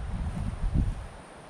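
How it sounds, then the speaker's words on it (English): Steady low rumble of strong wind buffeting the microphone, with gusty swells that peak midway and then ease off. "It is actually so windy"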